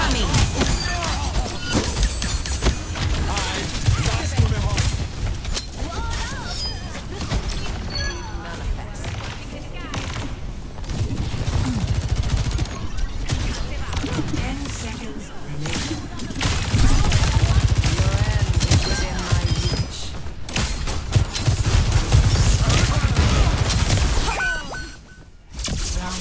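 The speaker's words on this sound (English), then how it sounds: "Rocket barrage incoming." A rocket barrage pounds the area in the video game Overwatch. Loud explosions and rattling blasts go on throughout, with heavy thuds in waves, while voices talk over the din.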